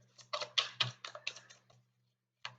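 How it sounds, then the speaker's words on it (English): A quick series of soft, crisp clicks and riffles as tarot cards are shuffled up close, then a pause before another brief snap. "Just a couple more shuffles."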